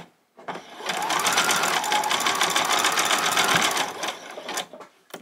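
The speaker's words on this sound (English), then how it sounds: "we're going to do a zigzag stitch right across the bottom here" A sewing machine runs a zigzag stitch across the hem of a doll's boxer shorts: one steady, fast, close mechanical whirr of about three seconds, then it slows and stops with a few faint clicks.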